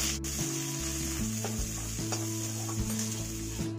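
Onions hiss and sizzle steadily in hot oil with cumin, garlic and ginger in a kadhai over a high flame. A loud, continuous frying crackle is joined by soft stirring scrapes, with no voices.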